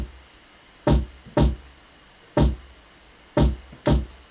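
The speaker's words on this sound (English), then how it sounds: "I just played this really simple kick melody that sounds like this" Punchy kick drum in a simple beat pattern, five short thumping hits in an uneven groove, isolated and close over faint background hiss, with no voices.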